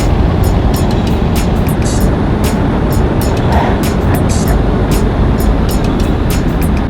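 Subaru WRX driving out on the road on a cruise, a steady, loud broadband road and wind roar with engine drone throughout, no talking.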